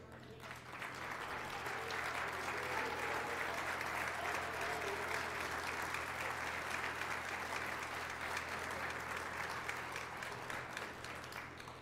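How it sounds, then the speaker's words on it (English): Sustained audience applause for Bishop Ward Hall of Fame inductees, a dense steady wash of many hands clapping that swells quickly and holds evenly for about twelve seconds, moderately distant in a large hall. "so that we can honor you with a round of applause"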